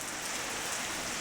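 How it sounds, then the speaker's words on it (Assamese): Heavy rain pours down outside a room in Bangalore on a Bihu night, a steady, dense hiss that stays loud and unbroken throughout with no voices. "বাহিৰত বহুত বেছিকৈ বৰষুণ দিছে"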